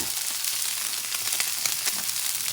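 A 21-day dry-aged ribeye sears over high heat in a cast iron pan on an electric stove, giving a steady close hiss with faint crackles throughout.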